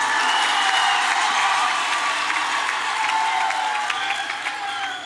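Sustained applause from a large crowd at a Women's Day rally in South Africa, a dense steady roar of many hands clapping that fills the whole stretch and eases slightly toward the end.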